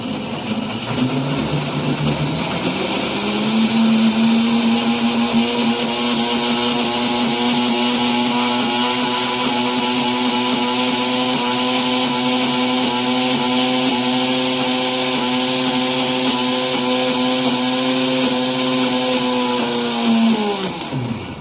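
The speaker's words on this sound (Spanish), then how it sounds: "Le echamos la cantidad necesaria, prendemos nuestra licuadora" A blender blending dried chili with water spins up, runs at a steady high-pitched whir for about twenty seconds, then winds down, loud and close.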